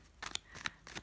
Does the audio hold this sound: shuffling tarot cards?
yes